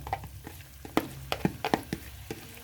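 Fried onions go into sizzling chicken gravy for a Lahori chicken dish. A soft sizzle runs beneath a series of sharp scraping and clanking stirring strokes with an uneven rhythm, up close and fairly quiet, without speech.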